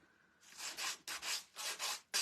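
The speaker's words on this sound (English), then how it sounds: "just rub harder in one spot and take off like a corner of one of your transfers" Repeated rubbing and scuffing strokes over transfer decals on a vintage wooden cutting board, five close bursts of dry friction in an uneven rhythm with brief pauses between them.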